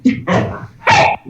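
A dog barks three times close up, loud sharp yips spaced across a little over a second, with no one talking.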